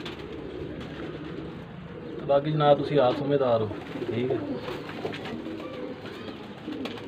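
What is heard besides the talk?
pigeons cooing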